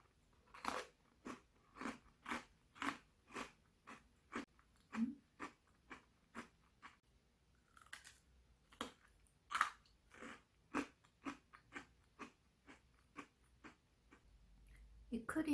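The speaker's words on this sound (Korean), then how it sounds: "타르트지 진짜 바삭바삭해요." Crunchy tart crust is bitten and chewed up close, giving a steady series of sharp, crisp crunches spaced about half a second apart, with no talk over them.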